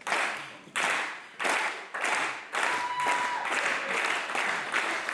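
Crowd applauding at a wrestling match, with nearby clapping arriving in a rhythmic series of about eight swelling bursts that blur into steady applause toward the end.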